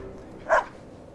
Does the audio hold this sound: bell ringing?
no